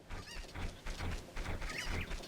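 Cucco chickens clucking in the video game Zelda: Ocarina of Time, a run of short, repeated squawky clucks in uneven bursts, fairly close and with no speech over them.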